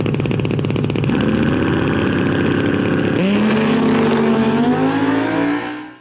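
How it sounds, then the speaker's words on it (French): A motorcycle does a burnout on a race track, its engine revving hard and holding high while the rear tyre spins, then climbing in pitch and cutting off abruptly at the end; loud and close, with no talk. "comme réussir cette manœuvre appelée burn-out"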